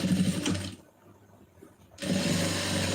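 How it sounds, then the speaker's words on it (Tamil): Sewing machine running in two loud bursts while stitching folded lining fabric, whirring steadily, then stopping for about a second of near quiet before starting up again, close and alone with no talking. "அதுக்கப்புறம் இப்படியே வந்து தையல் ஓட்டிகிட்டு வந்துடுங்க"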